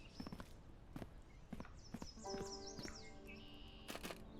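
Horse hooves clip-clop in a video game, a series of sharp, evenly spaced hoof strikes mixed with chirping birdsong and a few tonal game chimes, with no talking.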